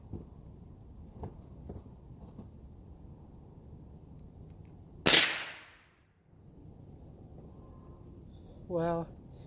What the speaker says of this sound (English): I'm gonna test out a shot.